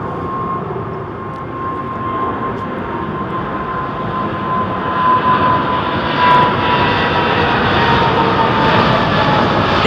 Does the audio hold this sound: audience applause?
no